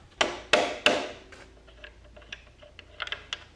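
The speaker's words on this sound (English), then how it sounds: "That way I can hit it, a couple of taps, and it should move right out." A motorcycle front axle bolt is driven out with three sharp, loud metallic taps in quick succession, followed by lighter clicks and rattles as the bolt shifts.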